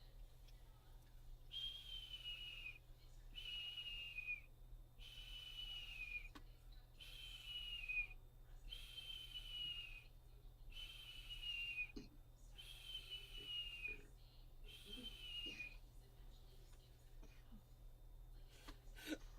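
A person whistles repeatedly to imitate a hawk's call, outdoors: about seven evenly spaced, drawn-out descending whistles, fairly faint against a quiet background hum.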